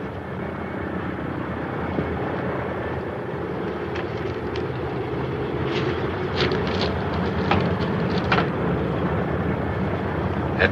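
A propeller airplane comes in to land in a 1954 film scene, its engine drone steady and continuous throughout, fairly loud, with faint clicks and knocks over the top.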